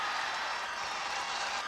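Crowd at a skateboarding event gives a steady, dense wash of applause and cheering, distant and continuous without pauses, after a skater plunges into water.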